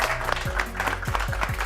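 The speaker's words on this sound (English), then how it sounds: "let's give him a round of applause" Applause from a live audience for the grand-prize winner at a trading competition grand final in Sydney, a brief burst of clapping with some voices mixed in.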